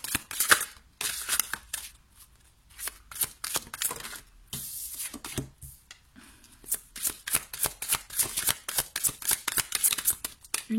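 Tarot cards are shuffled and drawn in quick, crisp bursts of riffling and slapping, close and fairly loud, with short pauses between the rounds.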